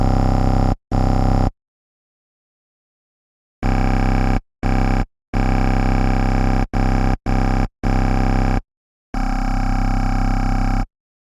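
Wavetable synthesizer dub growl bass, loud distorted buzzy notes in short bursts of varying length separated by silences, the tone shifting character as the wavetable position is swept.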